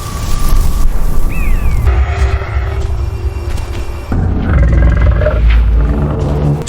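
A pride of lions roars on the savanna in deep, loud, rumbling bellows that continue throughout, layered with booming cinematic effects.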